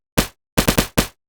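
Synthesized tearout-style machine gun bass, built with FM synthesis: five loud, clipped bursts, one isolated, then a rapid cluster of three and a final hit, all separated by silence.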